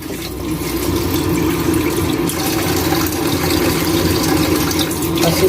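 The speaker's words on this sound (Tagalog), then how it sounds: "Lagyan natin ng konting tubig para mabasa-basa." Water is poured into a pan of quickly cooked creamy food, a steady running, splashing stream close by that continues throughout without any talk.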